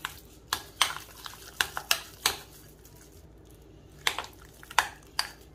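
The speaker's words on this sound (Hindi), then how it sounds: "अब इस दही को अच्छे से फेंटना है।" Thick hung curd, drained until paneer-like, being beaten in a bowl for shrikhand, with a series of sharp clinking and scraping strokes at an uneven rhythm, close and fairly loud.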